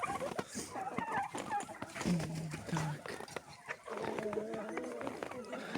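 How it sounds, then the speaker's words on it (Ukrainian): Chickens and young turkeys outdoors in their first snow give scattered soft clucks and short gobbling calls at close range, under frequent talking and laughter. "Ось старі курочки, бачите, їм нормально, вони прибігли тут, їдять, п'ють."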